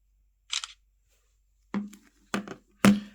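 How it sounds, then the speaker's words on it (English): A Samsung Galaxy A17 5G phone plays its camera shutter sound: three crisp, close clicks spaced about half a second apart, preceded by a fainter, higher tick in otherwise quiet surroundings. "every time you take a picture, you will hear that sound"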